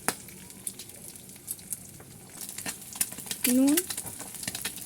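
Eggs fry in a pan with capsicum, onion and chopped ginger, giving a soft sizzle and stirring scrapes under a voice speaking briefly, with a louder burst of hissing near the end.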